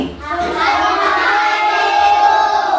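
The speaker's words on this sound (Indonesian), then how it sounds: "tepuk tangan untuk Brian" A school class claps for a pupil named Brian, a steady wash of many small hands clapping together close by, with children's voices mixed in.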